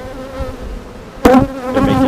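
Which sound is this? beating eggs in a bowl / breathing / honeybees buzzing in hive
honeybees buzzing in hive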